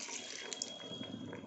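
Water streams into a pressure cooker holding lentils and greens, a brief continuous close splash and pour lasting about a second and a half.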